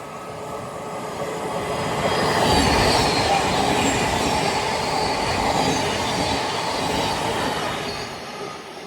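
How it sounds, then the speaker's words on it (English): A Class 360 train moves through a London station, its rolling rumble and squealing wheels swelling as it passes close by, then easing off. "there's a class 360 just sitting over there. Never mind, it's moving."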